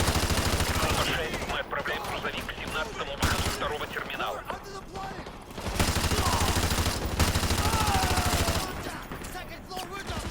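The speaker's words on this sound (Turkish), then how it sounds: "Ben de fırsat buldukça adama sıkıyorum" Rapid bursts of automatic gunfire in Call of Duty: Modern Warfare 2, loud and continuous with brief pauses, layered with clattering shots and someone talking over the shooting.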